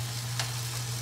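Manzano chiles char over heat with a steady, close sizzle and crackle, a low constant hum beneath and one brief sharper pop partway through.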